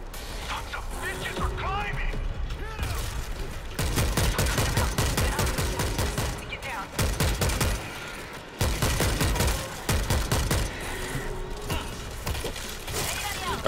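Scout rifle fire against a zombie horde in World War Z Aftermath, rapid crackling volleys of shots in long stretches broken by brief pauses, loud and near, with voices talking over the action.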